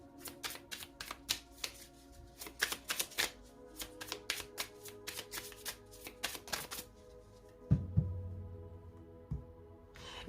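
Tarot cards are shuffled and flicked in a quick run of crisp, close snaps and riffles over a soft musical hum, then slow to a few sliding draws and a soft thump as one card is laid down.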